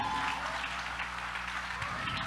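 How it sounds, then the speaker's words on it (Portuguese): Church congregation applauding the juniors, a dense steady wash of many hands clapping together with a low hum underneath, sustained and fairly loud throughout. "Dá uma salva de palmas para os nossos juniores."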